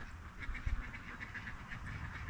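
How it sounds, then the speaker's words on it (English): Ducks quack on a New Zealand homestead, a steady run of soft, repeated calls at moderate distance over low rumbling background noise, with no one speaking. "the only other thing happening around here is the ducks"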